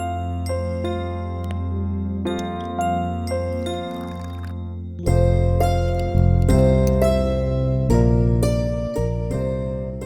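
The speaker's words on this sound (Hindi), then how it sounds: "रोज सुबह घंटी की आवाज और इसकी बड़बड़ सुननी पड़ती है मुझे।" A small morning prayer bell rings in a repeated tinkling pattern, first alone and then louder under thick low music that enters halfway through.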